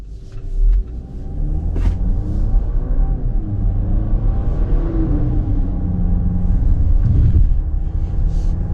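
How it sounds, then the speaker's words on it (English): A 2026 Jeep Compass Limited with the altitude package driving on the road, heard from inside as a steady low engine and road rumble with slight rises in revs, loud and continuous, no talking. "we're out on the road in this 26 Jeep Compass, limited with that altitude package."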